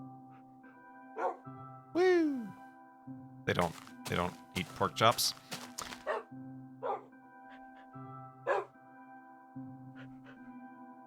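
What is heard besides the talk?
wolves barking in the video game Minecraft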